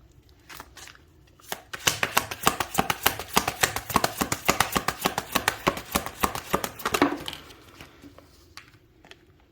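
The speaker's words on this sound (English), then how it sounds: "I'm going to continue to shuffle." A deck of tarot cards being shuffled close up: a quick run of crisp, rhythmic riffling slaps that starts abruptly, continues for about five seconds, then stops, with a few scattered card flicks before and after.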